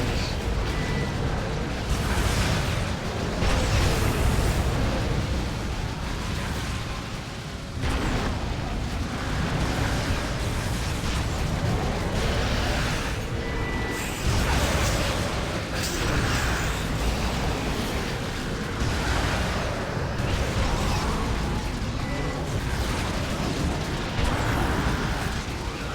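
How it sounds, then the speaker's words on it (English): Explosions from the real-time strategy game Dawn of War 2 Retribution boom continuously in dense overlapping bursts at loud volume for nearly half a minute, with faint game noise beneath. "those explosions are just crazy"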